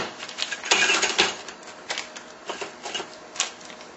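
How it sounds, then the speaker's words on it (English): Small metal RC car bearings and axle shafts from an Axial SCX10 tipped into a tray, a close, bright clattering of tiny parts with a jumble of sharp clicks and rattles spread over a few seconds. "we'll cut this one open with all the bearings and the axle shafts, and we're going to dump that right in here"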